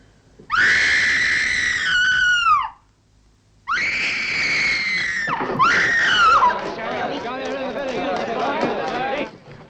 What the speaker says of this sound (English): Why are you screaming like this?